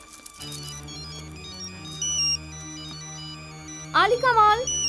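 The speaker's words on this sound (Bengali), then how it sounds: "বাবা ফোন দিচ্ছে, 1 ঘন্টা ধরে ফোন দিয়েই যাচ্ছে আমাকে।" A phone ringtone plays as a repeating electronic melody of bright tones, joined near the end by a voice speaking over it.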